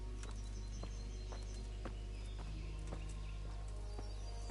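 Horse hooves clip-clopping in the video game Kingdom Come: Deliverance, a steady faint rhythm of roughly ten hoof strikes at a walking pace over a constant low hum, with a few faint bird calls.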